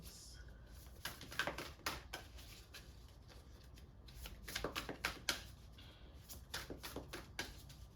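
Tarot cards being shuffled for a reading, close and quiet, in two rapid bursts of riffling flutters separated by short pauses.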